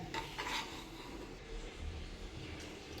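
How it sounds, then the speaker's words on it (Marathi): Peanut chutney stirred and turned in a pan, soft repeated scraping and rasping of a spoon against the metal, faint and close with no talking. "सतत हलवत राहायची आहे, खालीवर परतून घ्यायची आहे."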